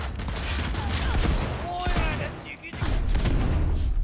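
A powerful gun fires in the video game Cyberpunk 2077, dense loud booming shots that come in rapid succession with a short lull, up close amid game effects, dominating the whole stretch.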